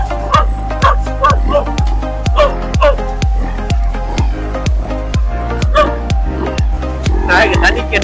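A dog barking repeatedly in quick, loud, close bursts with a few yips and whimpers mixed in, the barks coming in an even rapid rhythm throughout.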